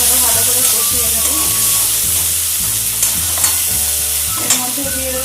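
A spice paste of Kashmiri chilli powder, dried chilli powder and sugar sizzles loudly in a pan while being stirred, with scraping strokes of the spoon breaking through a constant close frying hiss.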